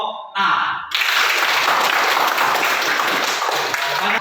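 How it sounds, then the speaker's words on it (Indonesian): An audience applauds a presenting group at a school discussion session. Brief speech comes first, then a burst of dense, loud clapping fills the room and carries on steadily to the end. "Marilah kita berikan aplaus kepada kelompok A"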